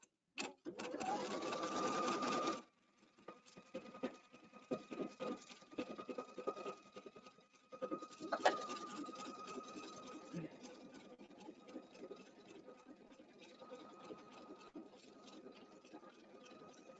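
A Pfaff embroidery machine stitches a placement line onto stabilizer, opening with a brief loud burst of rapid stitching, then settling into a quieter, steady mechanical patter that continues to the end.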